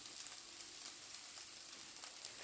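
Zucchini frying in a skillet for a shakshuka-style bake: a steady, soft crackling sizzle runs throughout, with brief pops, close and uninterrupted.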